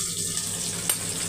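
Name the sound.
pumpkin sautéing in hot oil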